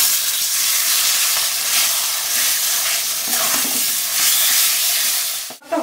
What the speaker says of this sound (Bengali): সেদ্ধ করে রাখা কচু শাকটা এবার দিয়ে দেবো।